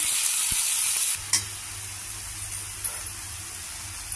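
Half-boiled bitter gourd pieces fry in a pan with tempering spices, a loud steady sizzle at first, then a stirring scrape and a clatter as the pieces are tossed, followed by quieter continuous frying with a faint low hum.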